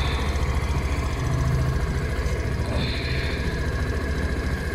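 A Suzuki Burgman scooter with its ignition on, running at a steady low idle with a continuous engine drone and vibration throughout, close by, with no talk.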